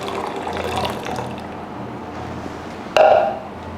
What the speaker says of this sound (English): So now I'm going to put my hot water